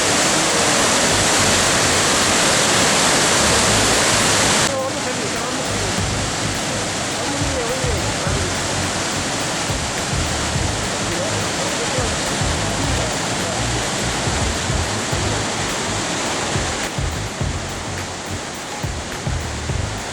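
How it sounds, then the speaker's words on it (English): Victoria Falls on the Zambezi River thunders in a dense, unbroken roar of crashing water, loud and steady throughout, easing slightly partway through but never pausing. "Victoria Falls, the Zambezi River crashing down."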